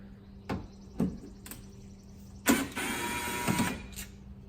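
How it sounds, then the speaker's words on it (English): Torx screws being worked loose from a door lock actuator on a 2007-2013 Toyota, heard as a few short clicks and taps followed by a longer ratcheting whir, close and fairly quiet. "I'm going to go ahead and remove two of the screws and leave the top one loose"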